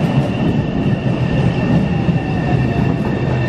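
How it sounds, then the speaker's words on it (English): An MBTA subway train rumbles loudly and steadily from inside the car, with continuous wheel and track noise and a faint high whine above it. "So we're getting on this train and we're taking it to North Station."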